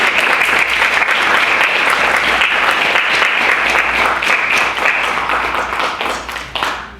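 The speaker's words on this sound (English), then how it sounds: "Could we all give a round of applause for Sabrina?" A political club endorsement meeting crowd breaks into loud, sustained applause, dense clapping holding steady for several seconds before tapering off near the end.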